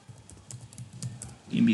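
Keys tapped on a computer keyboard to enter a guest username at a login, a short run of light clicks ending in a louder burst.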